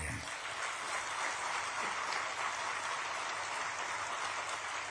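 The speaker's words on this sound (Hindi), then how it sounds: "जोर से ताली बजाना" Sustained loud applause from a crowd at a political speech, dense steady clapping filling the whole stretch without any speech over it.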